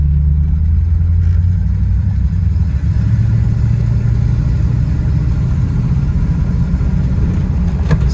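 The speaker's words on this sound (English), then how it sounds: "It's got a nice exhaust system. It's got a little sound to it." A 1989 Chevy Blazer with a rebuilt, performance-upgraded engine hums steadily from inside while driving, a low continuous rumble with exhaust drone and no talking.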